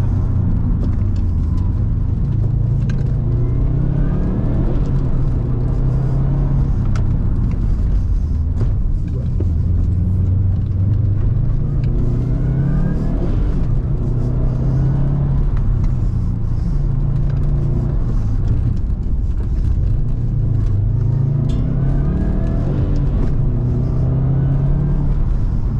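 A Honda Civic race car at a slalom event drives with a steady engine rumble and rising and falling revs as it crosses the finish line, heard close and continuous.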